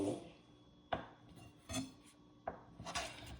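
Loose hardware on an Apoc Wallace Bowie knife rattles in a few sharp metallic clicks and clacks, quiet and close, separated by short pauses, with no talk over them.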